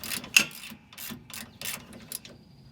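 A ratchet works on the long 14 mm rear strut bolts of a Toyota Tacoma, giving several short metallic clicking bursts in an irregular rhythm, close and moderately loud.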